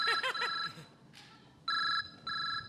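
A mobile phone rings in bursts of a repeated electronic tone, loud and close, with short gaps between the rings and a brief rustle in the middle, during a comedy stage sketch.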